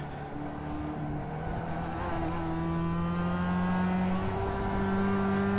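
A race car engine held at full throttle in a racing video game on the Okayama short circuit, a steady droning whine whose pitch climbs gradually as the car accelerates, with no talk over it.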